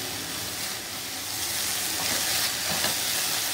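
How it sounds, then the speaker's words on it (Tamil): Tomatoes sautéing in a pan for a karunai kilangu masiyal (mashed elephant yam dish), giving a steady, close, continuous sizzle and frying hiss with faint stirring, no voices. "ஸோ தக்காளி நல்லா வதங்கட்டும் ஃப்ரெண்ட்ஸ்"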